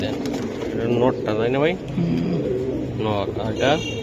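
Silver Giribaz pigeons coo close by, several bursts of deep, rolling throaty calls separated by short pauses.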